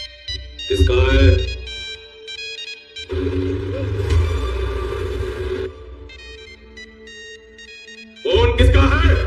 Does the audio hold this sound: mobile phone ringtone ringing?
yes